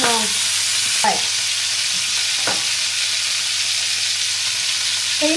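Chicken pieces frying in oil in a pan for chicken simmered with lemongrass and chili, giving a steady close sizzle throughout with a few brief stirring scrapes.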